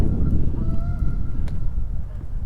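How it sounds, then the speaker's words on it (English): Geese honk a few times close by, short nasal calls over a steady low rumble of outdoor noise. "the geese have followed me."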